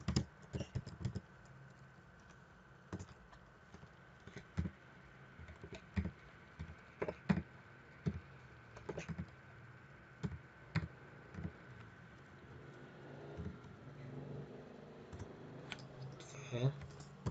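Steady close-up typing on a computer keyboard in a code editor terminal, a run of separate key clicks and short bursts over a faint background hum, with someone speaking quietly at times.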